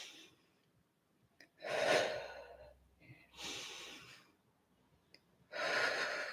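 Slow, controlled breathing during an at-home Pilates swimming exercise, three long audible breaths with quiet gaps between them, close and moderately loud.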